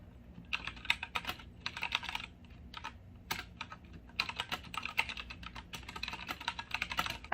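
Typing on a computer keyboard while starting an email, a steady run of quiet, close key clicks in bursts with brief pauses between.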